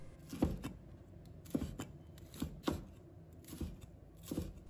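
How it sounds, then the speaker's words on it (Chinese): A kitchen knife chops an ingredient into small pieces on a cutting board in a home seafood-and-vegetable cooking session, giving about eight soft, evenly spaced knocks in pairs, close and fairly quiet. "再把它切成小块"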